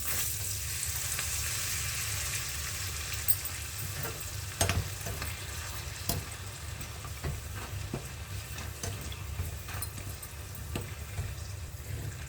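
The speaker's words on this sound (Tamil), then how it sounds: "இந்த மாதிரி ஒரு கைப்பிடி சுண்டவத்தல் எடுத்து பொறிச்சிக்கலாம்" Oil sizzles steadily in a pan as dried turkey berries fry, with occasional stirring scrapes and small pops, a continuous frying hiss with no talking.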